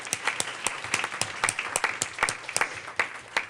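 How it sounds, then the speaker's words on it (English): An audience at a school district meeting claps in sustained applause, dense overlapping hand claps at moderate volume with no voices over them. "So let's give her a big round of applause."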